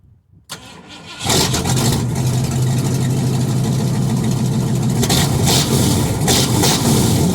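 A box van's engine fires up and settles into a steady, loud rumbling run heard close through its exhaust and muffler, with a throaty low drone and slight revving near the end.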